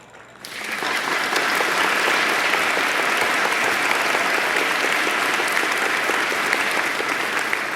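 A large audience at a pageant awards broadcast breaks into loud, sustained applause that starts abruptly and holds steady throughout, dense and even with no talk over it.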